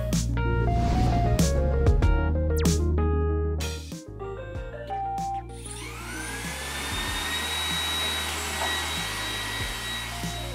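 A Roomba 980 robot vacuum cleaner runs with a steady whirring motor drone and brushing noise, close and continuous, following a stretch of bright electronic music tones.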